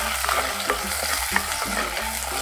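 Onions fry for a chicken curry, a loud, steady sizzle with spoon scrapes and stirring knocks in the pan close by, and no talking.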